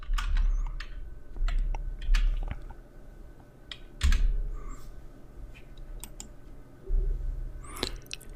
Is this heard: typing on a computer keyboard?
yes